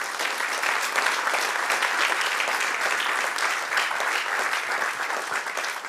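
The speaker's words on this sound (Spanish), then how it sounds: "Dale otro aplauso al Señor" A church congregation gives a sustained round of applause to the Lord during a sermon, a loud, continuous wash of clapping with no talk over it.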